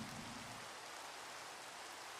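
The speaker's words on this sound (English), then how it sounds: "since it's raining here." Steady rain falls in the Minecraft ATM7 modpack world, a soft, even hiss that runs without a break and stays faint in the background.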